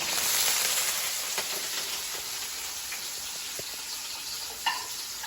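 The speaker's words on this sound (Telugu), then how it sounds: "ఇవి మంచిగా గోల్డెన్ బ్రౌన్ కలర్ అయ్యే వరకు వేయించుకున్నాం" Green chillies and onion fry in a pan with a soft, even sizzle close by, broken by a few faint clicks and one brief louder knock near the end.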